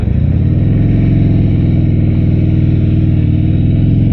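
A 2016 Harley-Davidson Low Rider motorcycle engine rumbles loud and close, its deep uneven pulsing throb holding steady with light revving.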